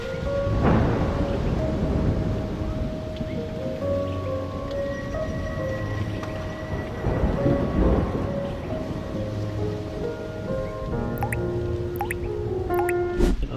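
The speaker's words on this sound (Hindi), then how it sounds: "तो आज आने वाली बहुत सारी बारिश है।" Steady rain patters and drips close by in a village, with a low rumble of distant thunder rolling underneath throughout.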